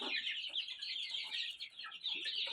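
A brood of 57 incubator-hatched chicks in a homemade brooder, peeping continuously in a dense, high chorus, moderately near and with no talking.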